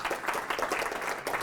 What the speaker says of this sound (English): please help me give a very warm round of applause for our speaker tonight